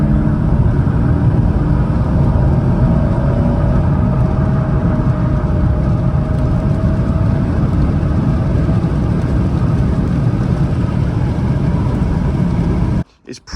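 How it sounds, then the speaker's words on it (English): A Saab 9-5 on aero wheels drives along with a steady low engine drone and road rumble heard from inside the cabin, holding constant until it cuts off abruptly near the end. "this car drives so well"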